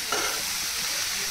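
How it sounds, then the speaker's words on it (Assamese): Grated coconut and sugar fry over low heat in a wok for coconut laddoo, making a brief, steady, close hiss and sizzle with faint stirring and no voices. "এতিয়া এইখিনি কম জুইত বহুত টাইম ভাজিব লাগিব"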